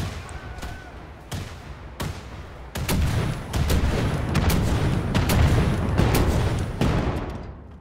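Grenades explode in the first-person shooter Wolfenstein: The New Order, several sharp booms and bursts with gunfire in between, growing louder and denser midway as the blasts pile up.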